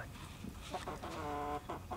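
Chickens cluck in a few short, close bursts, with one drawn-out call in the middle, over a quiet farmyard background.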